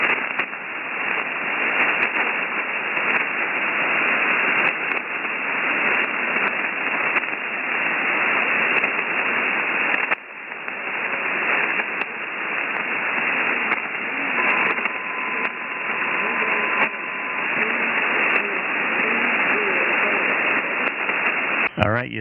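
A faint low-power SSB ham radio voice struggles through dense, steady static hiss on a QRP net, the distorted speech barely emerging from the noise for over twenty seconds.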